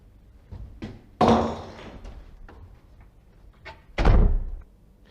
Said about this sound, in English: Now this is a fire door and should be kept closed to stop smoke spreading around the building.